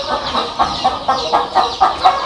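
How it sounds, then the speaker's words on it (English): Black giant chicken chicks clucking close by, a steady run of short rhythmic peeping clucks repeating about every quarter second, with no talk over them. "baby chicken, black giant."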